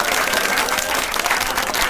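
A burst of crowd applause used as a sound effect, dense and even clapping at steady loudness throughout, close and continuous with no pause.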